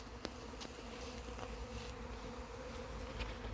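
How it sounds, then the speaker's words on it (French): Honeybees buzzing inside a cardboard box make a steady, dense hum that holds at an even level throughout, with a few brief louder flicks as individual bees fly close. "je vais récupérer mon petit carton avec les abeilles"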